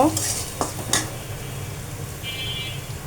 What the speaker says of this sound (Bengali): এখানে আমি ট্যাংরা মাছ নিয়ে নিলাম ট্যাংরা মাছগুলো একটুখানি হালকা একটু ভেজে নিচ্ছি